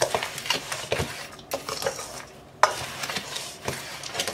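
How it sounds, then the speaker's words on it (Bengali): An herbal mixture is stirred by hand in a vessel, with repeated scraping and rubbing strokes, a sharp knock of the utensil against the side midway, close and moderately loud, no speech. "আমরা এটাকে ভালো করে মিশিয়ে নেব"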